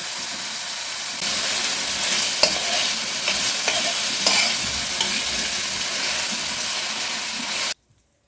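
Four or five small, tender children's sausages are tipped into a hot frying pan and stirred, giving a steady broadband sizzle with a few sharp scrapes and clicks, loud and close, before cutting to sudden silence near the end.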